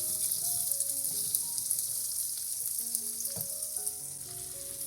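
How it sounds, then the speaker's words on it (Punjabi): A steady sizzle of food frying in hot fat fills the clip, with faint stirring clicks and no talking. "ਜਦੋਂ ਜੀਰਾ ਅੱਛੀ ਤਰ੍ਹਾਂ ਤੜਕ ਜਾਏਗਾ ਨਾ ਉਦੋਂ ਆਪਾਂ ਇਹਦੇ ਵਿੱਚ ਇਹ ਕੱਟੇ ਹੋਏ ਪਿਆਜ਼ ਪਾਵਾਂਗੇ"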